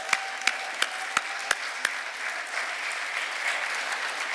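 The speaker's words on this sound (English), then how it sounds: "Give the graduates another round of applause." A fresh round of applause for the graduates at a rehabilitation centre ceremony. It opens with a handful of loud, evenly spaced claps close by, then spreads into a steady crowd clapping with no voices.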